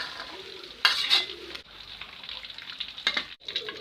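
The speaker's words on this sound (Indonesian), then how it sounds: "Kemudian kita saring ayamnya." Fried chicken pieces are scooped and strained out of hot oil, giving a steady crackling sizzle broken by a few sharp metallic scrapes and clinks from a strainer.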